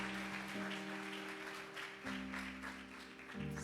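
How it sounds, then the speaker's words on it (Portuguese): A church congregation applauds faintly under sustained keyboard or organ chords, the clapping a soft continuous wash beneath the held musical tones. "Aplauda Jesus pela vida da Lavínia"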